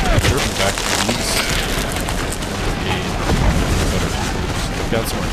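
Artillery fire in the Civil War game Take Command: Second Manassas, a dense, loud wall of booming cannon blasts and crackling musketry that rumbles on without pause.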